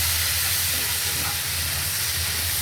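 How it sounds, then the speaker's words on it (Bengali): Fish fries in hot oil, a dense, steady, loud sizzle heard up close without pause or talking. "মাছটা একটু ভাজা হোক।"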